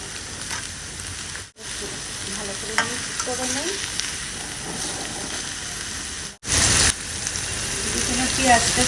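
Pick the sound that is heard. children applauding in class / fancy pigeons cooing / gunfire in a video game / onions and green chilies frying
onions and green chilies frying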